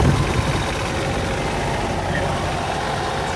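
A heavy 10-12.5 kW quiet diesel generator engine runs at a steady, rumbling idle nearby, with a short voice at the very start.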